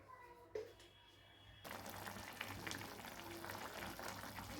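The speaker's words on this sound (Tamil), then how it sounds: "இப்போது அதுக்கு தேவையான உப்பு போட்டுரும் இப்போ அது நல்லா வேகட்டும்" Raw mango bubbles in salted water in a pot, a faint steady simmering hiss with soft bursts, starting after a brief quieter moment.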